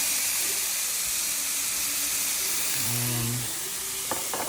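Meat sizzles steadily in a pan over medium-high heat, a loud continuous hiss up close with a few scrapes and stirs partway through.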